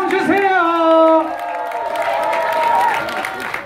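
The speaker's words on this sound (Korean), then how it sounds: "멋진 공연 펼쳐진 친구들을 위해서 큰 박수와 함성 주세요." Children and parents at a school arts festival clap and shout for performers, with rising whoops and cheers sliding in pitch over a bed of applause, loud and close, voices dominating the first half.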